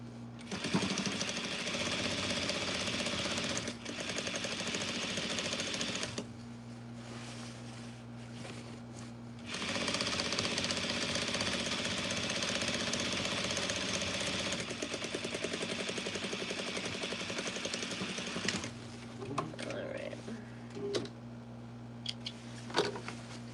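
Sewing machine running an understitch along a seam allowance, a steady mechanical hum and rapid needle chatter in several long runs separated by short pauses, close and moderately loud.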